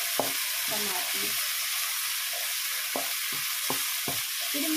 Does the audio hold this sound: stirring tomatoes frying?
yes